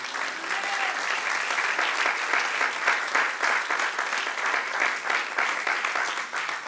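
A church congregation gives a big, sustained round of applause, dense and even clapping from many hands filling the room throughout, with a faint voice briefly audible early on.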